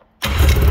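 A Yamaha V-max 700 snowmobile engine fires up abruptly after a moment of silence, catching at once into a loud, steady running roar close by.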